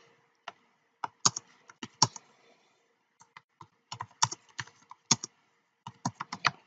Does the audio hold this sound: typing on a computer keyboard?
yes